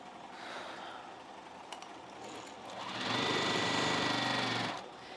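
A sewing machine runs in one steady burst of about two seconds while quilt strips feed through for a jelly roll race quilt, loud and close, with quieter handling noise before it.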